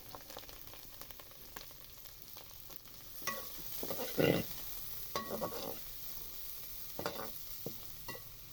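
Cabbage tossed into a pan with fried chillies and spices, stirred with scattered scrapes and clatters over a steady low sizzle, louder bursts of stirring at intervals.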